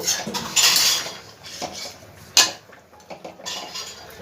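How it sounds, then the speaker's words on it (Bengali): Rui fish curry stirred in a pan over a gas flame turned up high, with a utensil clinking and scraping against the pan in several short bursts, one sharper knock midway, and no talking. "ভালো করে একটু নাড়াচাড়া করে নেবো।"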